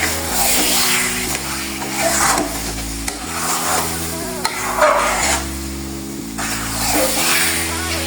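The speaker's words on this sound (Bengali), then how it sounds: "এবার আচারের সাথে মশলাটা ভালো করে মিশিয়ে নেব।" Olive pickle being stirred together with a spice mix in a pan or bowl, producing steady, loud scraping and rubbing strokes in a continuous rhythm with no speech.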